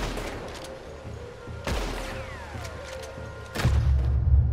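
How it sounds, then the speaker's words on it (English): Gunfire in the Western video game Red Dead Redemption 2: two sharp, loud shots about two seconds apart, the second followed by a heavy low rumble, over a quiet ambient game backdrop. "Damn, he shot me."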